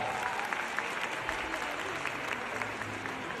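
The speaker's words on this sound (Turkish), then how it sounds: "Bir alkış daha alabilir miyiz ya?" An audience at a stage show with a singer applauds steadily throughout, a moderate, continuous clatter of many hands heard from within the crowd.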